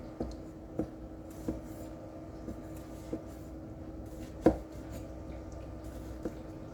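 Sharp new Korean Beoseonko knife slicing homegrown garden tomatoes, several crisp knife strikes spaced irregularly about a second apart, with one louder cut near the end, close and fairly quiet over a low room hum.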